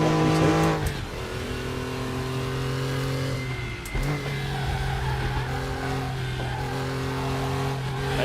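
Porsche race car engine in the RaceRoom racing game, loud and close, revving through gear changes with sharp pitch drops and steady climbs between shifts, no talking.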